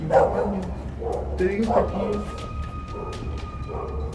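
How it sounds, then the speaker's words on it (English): A dog barks several times in short, spaced bursts while a voice keeps talking over it. "Suddenly they hear a dog barking"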